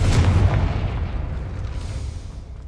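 A Confringo fire spell detonates in the Hogwarts Legacy video game, a loud, close, deep boom that rumbles heavily at first and then fades out over a couple of seconds.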